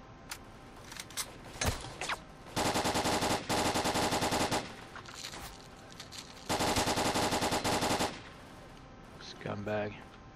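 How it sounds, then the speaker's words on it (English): Automatic gunfire rattles through the S.T.A.L.K.E.R. Call of Chernobyl video game with a heavily modded enemy count: a few scattered single shots, then two long, loud sustained bursts, followed by a brief, quieter tail. "Sounds like someone shooting to the left also"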